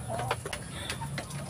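A native crossbreed rooster's clucks and short calls sound faintly over a steady background hum, with no talking.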